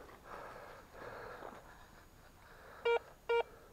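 Metal detector sounding over a buried coin target in a field, two short, bright, evenly spaced electronic beeps standing clearly above faint outdoor background noise.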